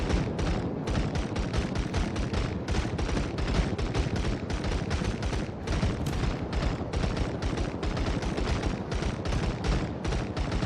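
Rapid naval gunfire from the World of Warships video game, a dense unbroken barrage of cannon and anti-aircraft shots firing in quick rhythmic bursts, loud and continuous for the whole stretch with no speech.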